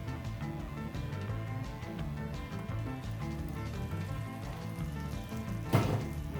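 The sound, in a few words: sandwich bread grilling in a pan with cheese and bacon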